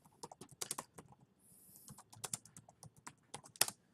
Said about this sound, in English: I'm typing this out, by the way, as we're doing it as well.